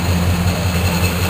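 Black-on-black Chevrolet Chevelle SS396 V8 idling up close, a steady low rumble with a pulsing lope that holds evenly throughout, with no voices over it.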